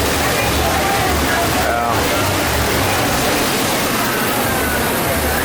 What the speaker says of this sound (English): Let's check that waterfall out.